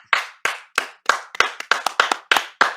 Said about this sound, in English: Round of applause for glyphosate, everybody.